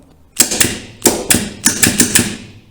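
A magnetic starter contactor in a motor reversing circuit switching: several sharp mechanical clacks in pairs and short groups, close and loud, with no talk.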